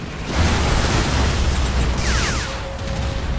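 A deep, rumbling explosion in the video game Crysis 3 fills the clip with steady low roar and noisy burst, followed by a thin electronic tone near the end.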